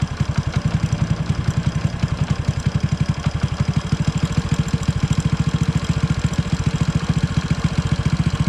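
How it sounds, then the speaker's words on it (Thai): Honda Wave 100 motorcycle engine fitted with an NPro carburettor, idling with a steady rapid low putter that quickens slightly as the revs rise, close and continuous with no talking. "รอบเครื่องมันจะเร่งขึ้นนะครับ"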